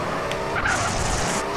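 A ZR350 sports car in GTA San Andreas drives hard with steady engine roar and a brief tire squeal midway, loud and close throughout with no talk.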